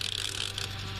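A refrigerator defrost timer is turned forward by hand, giving a brief, close run of rapid mechanical ratcheting clicks with a faint steady hum beneath.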